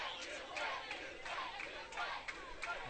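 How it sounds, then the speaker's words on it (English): The UK quidditch team and their fans cheer and shout together at the 2016 Quidditch World Cup semifinal against the USA, a steady roar of crowd voices with repeated whoops rising above it. "And the UK cheering with their fans"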